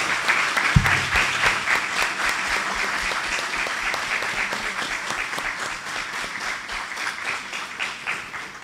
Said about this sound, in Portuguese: Eu gostaria de pedir ao público presente bater palmas aqui para os nossos amigos.